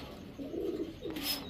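A pair of orange sapchila pigeons coo softly, a brief low cooing phrase repeated twice, faint against a quiet background.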